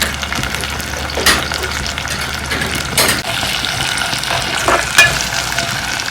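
Vegetable curry for an Andhra-style veg thali frying loudly in a pan as it is stirred, a close, dense sizzle broken by several sharp scrapes and clatters of the spoon.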